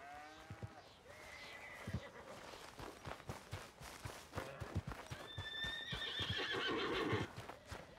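Faint horse whinnies and snorts mix with hoof clops and shuffling in a quiet outdoor scene in Red Dead Redemption 2.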